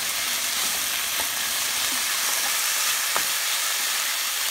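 Chopped onion and tomato sauté in a hot pan for a prawn curry, a continuous even sizzle with a few faint clicks of stirring, close and steady throughout, with no talking.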